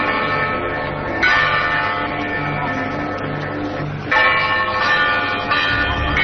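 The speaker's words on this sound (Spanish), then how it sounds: "Estas son las campanas, así suenan campanas, de un lugar llamado Fátima, Cova de Iría" Church bells ring at the shrine of Fátima, Cova de Iría, a loud, steady metallic peal with sustained overlapping tones and fresh strikes returning at intervals.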